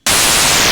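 Bit destruction effect from the Blip Box iOS drum synth, a dense harsh digital crunch of broadband static that starts abruptly and holds loud and steady.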